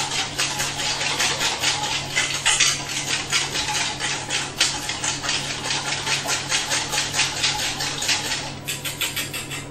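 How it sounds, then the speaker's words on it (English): A golden dressing is whisked briskly in a bowl, producing a rapid, rhythmic scraping and clinking of metal against the bowl, close and continuous throughout. "It's thickening up slightly, and a good whisk at the end."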